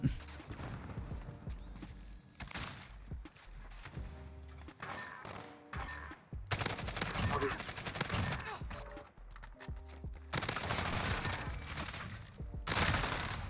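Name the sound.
gunfire in a Call of Duty-style video game, Fennec gun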